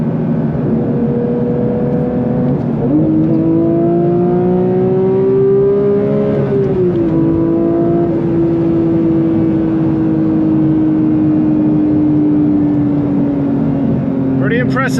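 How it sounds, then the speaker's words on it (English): The 992-generation Porsche 911 GT3 Touring's engine revs under way, its pitch climbing smoothly, peaking, dipping at a shift, then holding a strong, steady drone while someone talks over it. "just listen to that engine"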